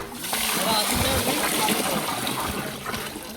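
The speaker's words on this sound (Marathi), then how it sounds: "आणि हे आता तांदूळ धुवण्यासाठी आणि स्वच्छ पाण्यानं परत धुवायचे आहेत" Rice is washed in a pot of water, giving a continuous close splashing and sloshing of water, steady throughout with some outdoor background noise.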